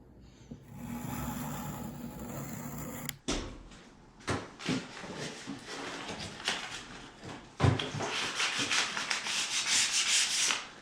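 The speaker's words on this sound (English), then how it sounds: "After stripping down all the finish, then we just go down the grits with the sandpaper." A wooden door being hand-sanded with sandpaper, worked down through the grits after the old finish is stripped. Close, steady scratchy rubbing gives way to irregular back-and-forth scrubbing strokes, with no talking.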